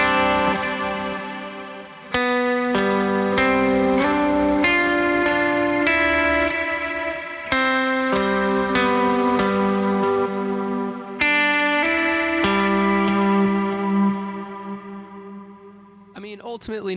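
Electric guitar played through Meris Mercury X and LVX pedals with gain and level nudged up, sustained chords rich in chorus, echo and mild distortion ringing into each other, close and loud, then fading with a brief higher flourish at the end.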